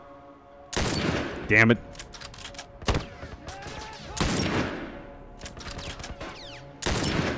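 Loud bursts of gunfire in The Last of Us game, several sharp shots and volleys spaced a second or two apart with echoing tails, and a voice mutters between them.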